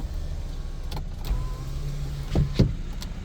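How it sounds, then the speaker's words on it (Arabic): Electric power window on a white Hyundai MD sedan running in a closed cabin, a faint steady motor hum with a couple of soft thumps and clicks near the end. "ازاز السواق اوتو، 3 ازاز كهرباء. نشوف مع بعض الازاز الاخير."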